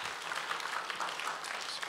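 A church audience gives a brief burst of applause, dense and steady clapping from a room full of people with no speech over it.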